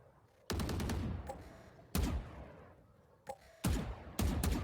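Bursts of rapid gunfire in Valorant, several sharp volleys separated by short pauses, loud and close.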